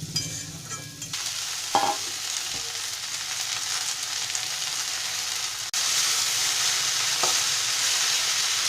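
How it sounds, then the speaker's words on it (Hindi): Boiled potatoes sizzle and crackle steadily in a hot pan for aloo methi, with occasional stirring scrapes and clinks; no one speaks. "अब इसे 1 से 2 मिनट तक भून लेंगे ताकि ये क्रिस्पी हो जाए।"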